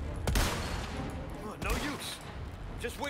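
Gunfire in Resident Evil 4 Remake: a few sharp shots spaced about a second apart, firing at a huge titan-like beast that throws rocks, with speech and game sounds in the background.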